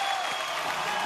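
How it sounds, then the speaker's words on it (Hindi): A dense wash of applause from an audience, steady and fairly loud throughout, with a faint hint of voices mixed in. "रवीना जी के लिए जोरदार तालियां।"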